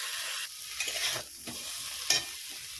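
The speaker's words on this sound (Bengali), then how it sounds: "এবারে বেটে রাখা সর্ষেটাকেও দিয়ে দেবো।" Ground mustard paste sizzling as it is stirred into a rohu fish curry with raw banana, a soft steady fry broken by a few spoon scrapes, close and alone with no voices.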